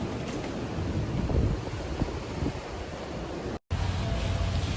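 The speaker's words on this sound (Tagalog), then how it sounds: "Mahangin pa rin siya." Strong typhoon wind buffets the microphone in a constant loud roar, with gusty swells and a brief dropout near the end.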